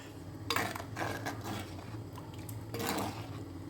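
A spoon scrapes and clinks against a pot while lemon curry is stirred over low heat, a few irregular metallic scrapes and knocks that are fairly quiet and close, with no speech.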